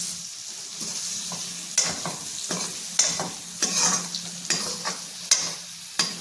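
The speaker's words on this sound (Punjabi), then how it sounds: "ਹੁਣ ਆਪਾਂ ਇਹਨੂੰ ਇਸ ਤਰ੍ਹਾਂ ਹਲਾਉਂਦੇ ਜਾਣਾ" Mixed vegetables with green chillies fry in a pan with a steady, close sizzle, while a spoon stirs them in a regular series of sharp scraping strokes.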